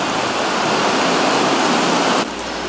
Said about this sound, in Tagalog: malakas na ulan at hangin nga ang dala ng bagyong Karina sa pananalasan nito dito